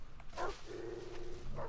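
Dogs barking in the video game Far Cry 3, heard as two short, moderately loud barks at the start and end of the clip, separated by a low droning growl within noisy game ambience.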